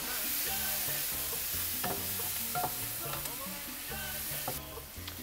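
Vegetables for a Cuban sofrito sizzle steadily in a pan while a utensil scrapes up crusted bits from the bottom and stirs them back in. The scrapes and clinks come repeatedly over the continuous frying hiss, close and fairly loud, with no talk.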